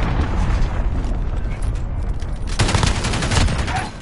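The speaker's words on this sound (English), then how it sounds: "Enemy cruise missile. Take cover." A cruise missile strike in Call of Duty Modern Warfare lands in a loud, continuous barrage of booming blasts and crackling debris, with a second heavy surge of explosions partway through.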